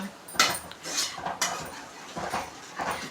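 A ladle stirs dried-fish curry with added water in a cooking pot, producing several scraping, clinking strokes against the metal, with faint background noise between them.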